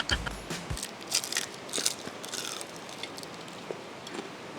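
Someone bites into a crunchy fried scallop wonton with a few close, crisp crunches, followed by soft chewing.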